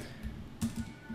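A computer keyboard is tapped a few times in quick succession, soft close clicks with one slightly louder keystroke, in a quiet room.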